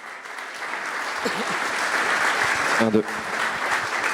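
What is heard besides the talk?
audience applause for artists coming on stage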